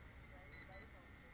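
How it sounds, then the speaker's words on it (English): Two short high-pitched electronic low-voltage warning beeps in quick succession from a Veeniix V11 drone in flight, faint over steady background noise and a low hum. "Oh, double beeps, double beeps."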